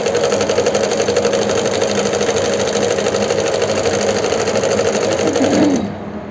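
A sewing machine runs continuously, double stitching a palazzo, a fast, even mechanical whir close to the mic that stops abruptly just before the end.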